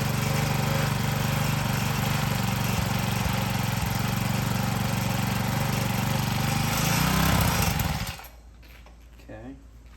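A free motorcycle revived after sitting seven years idles steadily and loudly up close for about eight seconds, then the engine shuts off, leaving faint background sound.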